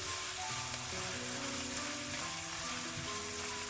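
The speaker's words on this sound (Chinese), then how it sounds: "炒至肉末微微变色之后，再将切好的葱花、蒜末、小米辣倒进来，翻炒均匀，炒出香味。" Minced meat stir-frying with chopped scallion, garlic and bird's eye chili in a hot pan. A steady, dense sizzle runs throughout, with faint stirring noises under it.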